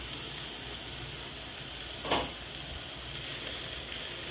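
A fish egg stir fry in an open pan gives a soft, steady sizzle, broken once by a brief scrape of stirring.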